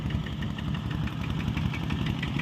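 Farm tractor engine running at a rural water well site, a loud, continuous low chugging close by.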